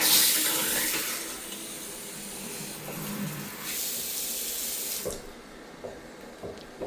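Tap water runs steadily with a broad hiss into a sink or tub during a cleaning inspection, close and continuous for several seconds with no one speaking, easing slightly near the end.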